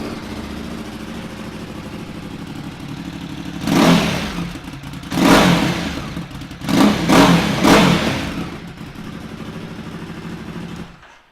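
Ducati Supersport S 937cc motorcycle, a 2017 bike, idling steadily then blipped through four loud, rising revs in quick succession before settling back to idle and cutting off.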